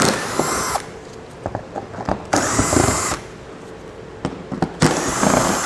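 Power drill removing 5.5mm screws from beneath the front fascia of a 2018 Ford Edge, in three loud whirring bursts separated by quieter clicks and handling noise.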